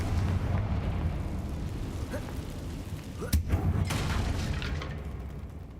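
Confringo fire-blast spell from the game Hogwarts Legacy, a single sharp bursting explosion with a brief rumbling tail, heard over a steady low game ambience.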